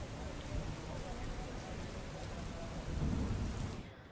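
Heavy monsoon rain pours steadily with rumbling thunder, a dense continuous wash that swells louder near the end, heard alone without voices.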